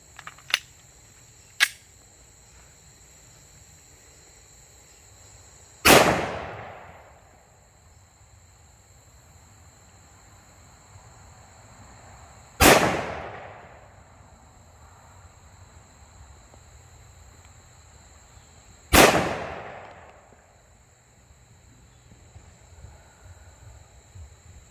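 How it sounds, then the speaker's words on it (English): Smith & Wesson M&P .357 SIG pistol firing full metal jacket rounds outdoors, three loud sharp shots spaced several seconds apart, each ringing out briefly, with two faint clicks early on and quiet insect-like background between. "gonna shoot 5 shots of the Full Metal Jacket Lawman"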